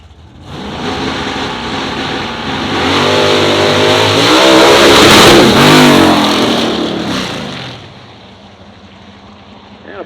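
A 1970 Chevelle race car's engine roars as it revs and accelerates hard at an outdoor motorsport event, building to a loud sustained peak around the middle before easing off, close and dominant.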